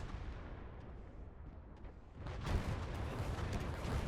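Artillery shells landing in the video game Indomitus 40K Conquest, distant rumbling blasts that swell into a louder, broad crash of impacts midway through, with no talk.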